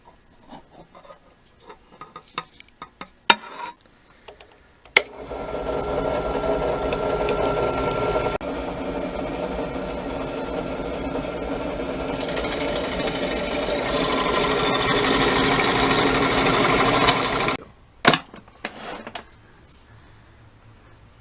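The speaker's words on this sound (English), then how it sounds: "But first I have to machine new holes in it." Steady machining of new holes in an oiled steel sprocket, a continuous close grinding drone lasting about twelve seconds, framed by scattered clicks and knocks of handling before and after.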